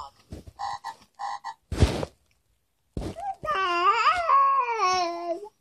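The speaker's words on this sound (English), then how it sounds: "The frog leaps up into the air." Frog croaking from a children's sound book comes in a few quick chirping croaks, then a burst of tapping or rustling, then a long, loud warbling croak close up.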